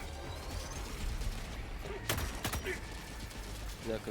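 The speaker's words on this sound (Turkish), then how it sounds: "Pompalı." Shotgun blasts in the video game Helldivers 2, two or three sharp close reports amid chaotic battle noise, with people talking over the action.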